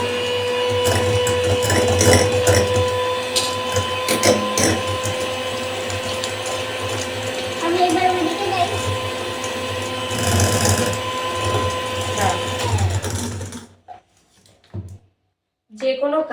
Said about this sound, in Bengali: এবার এর মধ্যে অল্প অল্প করে গুঁড়ো চিনি অ্যাড করবো আর বিট করবো